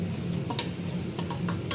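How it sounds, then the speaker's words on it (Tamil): Ginger garlic paste sautés in a pan with a steady sizzle and a low hum underneath, with several light utensil taps and scrapes near the end; no speech. "நம்ம இஞ்சி பூண்டு பேஸ்ட்டு போட்டுருவோம் போட்டு நல்லா வதக்கிடுவோம்"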